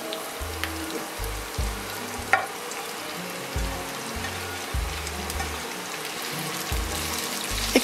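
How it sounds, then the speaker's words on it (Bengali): Vegetables with garlic and chopped onion stir-frying over medium-high heat for chicken chow mein, a dense continuous sizzle with occasional clatter of stirring and low rumbling underneath. "একটু ভেজে নিচ্ছি।"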